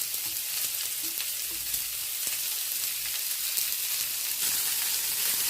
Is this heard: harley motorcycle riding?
no